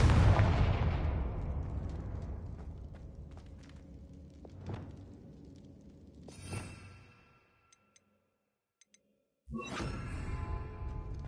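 A Confringo blasting spell in Hogwarts Legacy bursts with a loud, close explosive boom that rumbles away, followed by a smaller blast, a brief near-silence with faint clicks, then another sharp, crackling burst.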